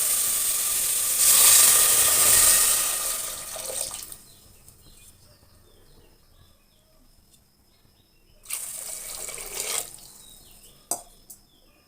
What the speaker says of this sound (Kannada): ಸೊ ಇವಾಗ ನೀರು ಹಾಕೋಣ. Let's add water to this.